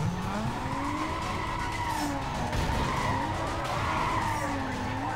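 Cars screech and skid through a police chase in Need for Speed Most Wanted (2005), a continuous loud wail of tire squeal and engine drone with sliding pitch sweeps and no talk.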